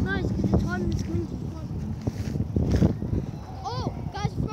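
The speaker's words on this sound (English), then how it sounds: "It's kind of windy." Wind gusts across an open outdoor spot on a hot day, a steady rushing buffet on the microphone that swells and dips, with people talking over it throughout.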